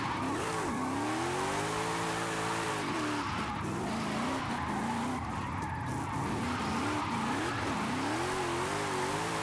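In the Forza racing game, a race car corners flat out, its engine note sweeping up and down between gears as the tires squeal and skid steadily through the bend, loud and continuous with no talk.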